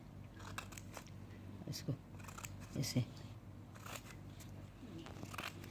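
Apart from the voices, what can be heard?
scissors cutting embroidery fabric piece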